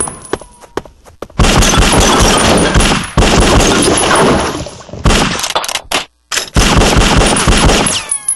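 Gunfire in the Bad Boys 2 PC game, loud sustained bursts of automatic fire and shots with brief gaps between them, alone without talk.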